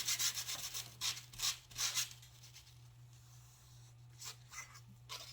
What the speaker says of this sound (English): And now I'm just going to sand over these holes that I made.